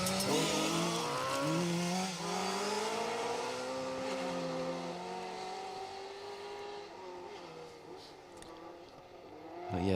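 A Saab 900 Turbo rally car on a forest rally stage, its engine revving hard through the gears with rising and falling pitch, loud and close at first, then fading as it pulls away, ending with a brief renewed surge.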